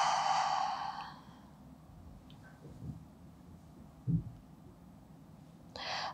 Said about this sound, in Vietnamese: Hít vào thật sâu và thở ra từ từ.